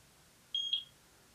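A Eufy security camera beeps once after its sync button is held, a single short high-pitched electronic tone lasting about a quarter second against quiet room background.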